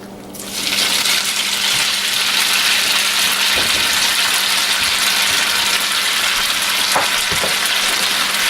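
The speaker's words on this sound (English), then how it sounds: "We have a hot pan. We're going to add some olive oil to that, because we want the pasta crispy" Pasta fries in olive oil in a hot pan, a loud, dense, crackling sizzle that erupts within the first half second and holds steady to the end.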